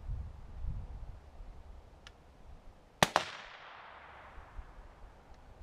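A single rifle shot from a rifle fitted with an adjustable regulated bolt carrier, gas setting fully open: one sharp, loud crack followed quickly by a metallic clack of the action cycling, then a fading outdoor echo.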